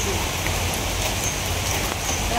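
Rain falls steadily outdoors as a continuous even hiss, with grass being cut in the downpour nearby; no distinct voices.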